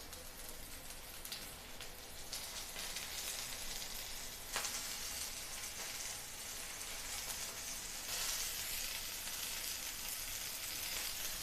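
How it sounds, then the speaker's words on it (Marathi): Rice-flour-coated Bombay duck fish fry in oil in a pan over medium heat, a continuous dense crackling sizzle like steady rain, close and even throughout with no voices. "आणि आता फ्राय करायला घ्यायचं।"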